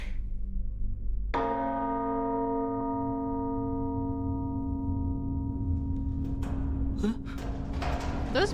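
A church bell strikes once loudly and its rich tone rings on for several seconds, decaying slowly under a steady background hum, with faint higher clinks near the end.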